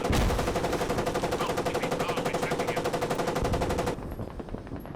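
A fast, continuous burst of automatic gunfire rattles in a video game, loud and close, sustained for about four seconds before cutting off to quieter game ambience.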